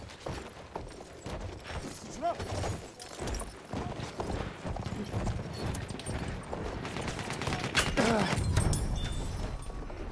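Horse hooves gallop through a loud, chaotic Battlefield 1 multiplayer battle, mixed with gunfire and machine noise, with a player's voice talking over the action.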